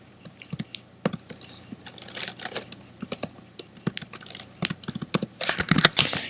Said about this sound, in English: So I can just go ahead and type this in.